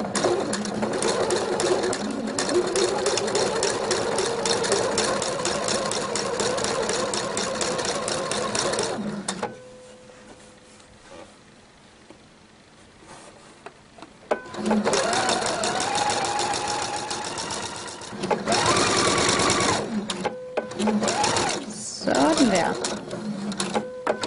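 A household sewing machine stitches lace onto fabric, whirring in fast, even runs up close, with a pause mid-way before stitching resumes, while someone speaks Danish over it.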